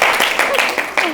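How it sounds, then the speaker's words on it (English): Audience applause for a presenter in a classroom or seminar setting, loud broadband clapping with a few sharper claps standing out and voices mixed in over about a second. "Clap for her, please"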